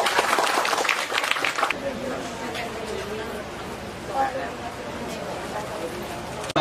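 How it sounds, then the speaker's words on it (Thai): A crowd claps at an outdoor community event held by a senate outreach program in southern Thailand. A brief, fairly loud burst of applause quickly gives way to a murmur of crowd chatter and background bustle. "ขอเสียงปรบมือให้ท่าน"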